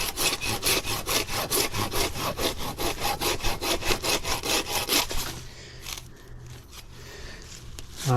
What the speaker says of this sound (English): I need a new saw.